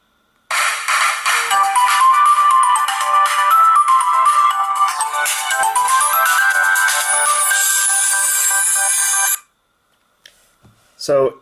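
A loud ringtone melody plays from the external speaker of a Zopo ZP998 phone, bright and continuous for several seconds before cutting off abruptly, followed by a faint click.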